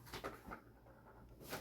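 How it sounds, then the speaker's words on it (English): Light scattered knocks and rattles from a small ball being batted around nearby, a few quick taps spaced unevenly. "I apologize for my cat. He's having a grand old time with that little ball thingy"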